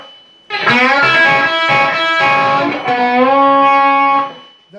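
An electric guitar with overdriven tone plays a riff, sliding notes on the fourth string in a short sustained phrase, loud and close with no talk.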